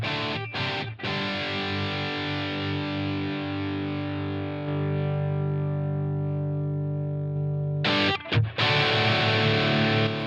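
A heavily distorted electric guitar plays through two Helix amp blocks at once, sustained chords ringing steadily with brief pick attacks at the start and near the end.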